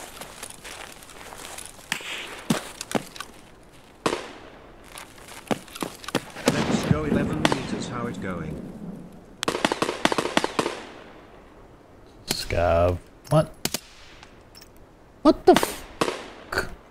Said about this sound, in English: But I hear gunshots.